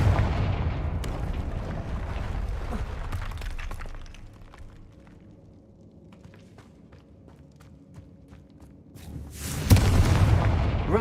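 Confringo blasting spells in the Hogwarts Legacy game: booming explosions with crackling debris, loud at first, easing into quieter scattered cracks and snaps, then a fresh heavy blast near the end.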